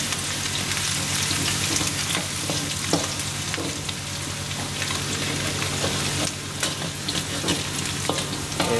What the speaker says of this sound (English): I'm going to put garlic in, the shallot, and you fry it until it becomes caramelized